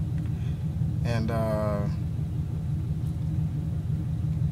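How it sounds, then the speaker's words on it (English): A 2002 Mustang GT with a BBK off-road X-pipe and no mufflers idles with a deep, steady exhaust rumble, close by, while someone talks briefly over it. "an exhaust video of my car. I just put the BBK off-road X pipes on there"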